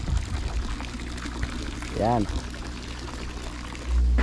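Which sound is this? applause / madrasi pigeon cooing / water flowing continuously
water flowing continuously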